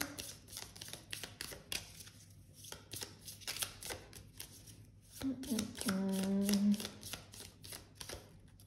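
Tarot cards are shuffled by hand in a quick run of close, soft riffling flutters, with a short voiced sound near the end.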